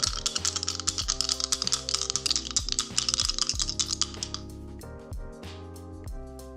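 Dice rattle and clatter in rapid bursts of clicks during a pick-a-card reading, with soft sustained background music beneath; the clattering fades out after about five seconds.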